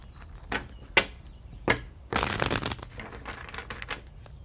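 A deck of tarot cards shuffled outdoors, with a few sharp snaps and riffles followed by a longer flutter of cards running together, close and moderately loud, no talk.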